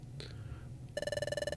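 A high, steady electronic ringing tone from the Pokemon Mystery Dungeon: Explorers of the Sky video game, standing for ringing ears, starts abruptly after a short quieter stretch and pulses rapidly and evenly at moderate loudness, with no talk.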